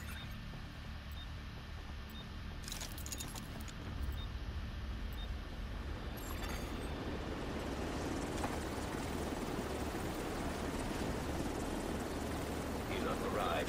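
A helicopter arrives in the video game The Division 2: a steady, broad rotor rumble that fills the whole stretch and swells slightly louder midway as the aircraft draws near.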